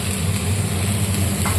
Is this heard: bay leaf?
yes